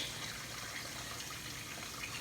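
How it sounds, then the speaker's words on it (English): Water being dumped out of a container while pickling corn, a steady rushing gush of liquid pouring continuously and fairly faintly, with no talk. "We're going to dump the water out of there because it's aggravating me"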